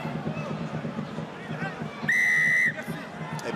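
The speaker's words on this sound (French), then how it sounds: "Et pénalité, sifflé contre Toulon." A referee's whistle blows one sharp, sustained blast of about half a second to call a penalty in a Top 14 rugby match between Toulon and Racing 92, cutting loudly through steady stadium crowd murmur.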